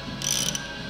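A Renault Master 2.3 dCi M9T diesel engine turned over by hand during a repair, giving a brief soft mechanical clicking and ratcheting near the mic over a low steady hum.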